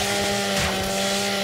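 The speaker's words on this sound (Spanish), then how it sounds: "Motosierra." Lancer rifle chainsaw bayonet in Gears 5 revving with a steady, dense buzzing drone that stays loud and continuous throughout, without anyone talking.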